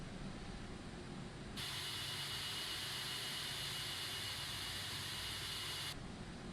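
Aerosoft A330 jet engines at idle power while taxiing in the Prepar3D simulator, a steady whining hiss with a broad rumble beneath that swells sharply, holds for several seconds, then drops back to a lower drone.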